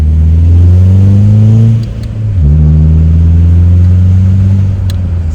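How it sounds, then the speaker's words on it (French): A car with a custom stainless steel valved exhaust, valve closed, pulls steadily in fifth gear around 2500 rpm, a close, loud, low droning engine note that briefly dips during a shift and then climbs smoothly again. "Je vais accélérer un tout petit peu, monter un tout petit peu dans les tours."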